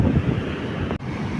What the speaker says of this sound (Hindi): देखिए ये पानी आया ना, ये लहरें आ रही है ना, देखिए।